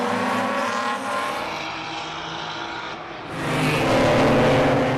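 Race cars in a BMW club race roar past in a loud, continuous engine blare that dips briefly mid-pass, then swells again as another car closes in nearby.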